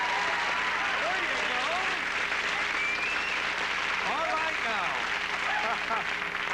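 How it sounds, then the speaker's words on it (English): Studio audience applause, a dense steady wash of many hands clapping at full volume through the whole stretch, with a few faint voices calling out over it. "Applause doesn't lie."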